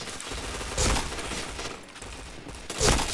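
Bursts of rapid gunfire in a video game, two louder volleys standing out over a continuous noisy backdrop of game sound, with no voices present.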